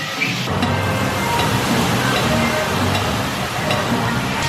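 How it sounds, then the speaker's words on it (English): A huge bucket of water tips and crashes down at a Universal Orlando water play area, a loud continuous roaring splash and spray that fills the whole stretch. "When you hear the bell, you know that big bucket of water's coming down."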